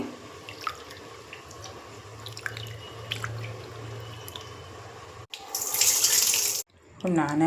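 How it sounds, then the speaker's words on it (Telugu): Foxtail millet and moong dal rinsed in water, soft swishing and dripping followed by two loud bursts of running tap water, with a faint voice underneath. "కడుక్కోవడం వల్ల దుమ్ము ఇలా నీట్‌గా దుమ్ము లేకుండా ఒక 2 టైమ్స్ కడుక్కోవాలి కొర్రల్ని."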